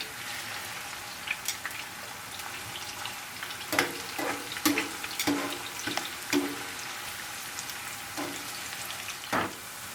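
Garlic and red onion fry in a pan for an Ethiopian fosoliya and carrot tibs dish: a steady, fairly quiet sizzle with scattered crackles and a few sharper stirring clicks and pops, no talking.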